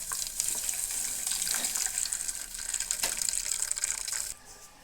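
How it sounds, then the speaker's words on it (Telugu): Water pours into a cooking pan of tomato dal just after the stove is turned off. A steady, close gushing splash runs for about four seconds, then stops abruptly. "వాటర్ ఇందులో వేసేస్తున్నా ఫ్రెండ్స్."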